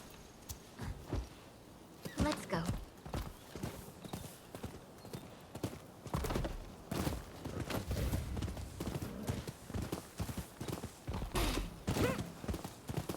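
Horse hooves clip-clopping at a ride in the samurai game Rise of the Ronin, a steady rhythmic run of loud, close hoofbeats with occasional creaks over ambient game sound.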